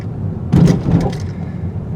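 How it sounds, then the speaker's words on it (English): 2021 Mazda 3 Hatchback Turbo suspension hitting a bump, a single loud, deep thump heard from inside the cabin over steady road noise, fading quickly. "Yeah, that was a healthy thump, but nothing serious."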